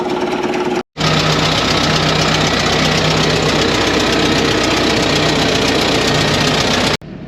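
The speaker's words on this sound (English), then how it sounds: "but I fired up the scraper." A farm scraper's diesel engine runs loud and close at a steady, knocking idle, with a brief cut near the start and the sound continuing unbroken to the end.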